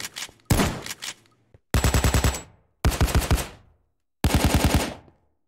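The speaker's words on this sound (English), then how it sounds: "So I'm gonna be shooting up some zombies as just as a little gunplay thing, gameplay." Gunfire from an animated guns mod in Minecraft: four separate bursts of rapid automatic shots, each clipped short with silence between, loud and close, with no talk.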